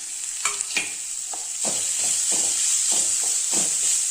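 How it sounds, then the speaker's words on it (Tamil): Grated gooseberry being sautéed with onion and spices in a pan, a steady close sizzle with repeated scraping stirs at a regular rhythm. "போட்டு கொஞ்சம் நல்லா வதக்கிக்கலாங்க."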